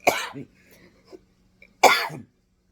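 Two short, harsh coughs close by, one at the start and another about two seconds later, with near silence between them.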